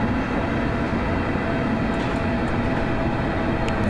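A passenger train runs steadily toward a station stop on a Glasgow-area line, a loud, continuous rumble and rattle of wheels on rails heard from inside the carriage.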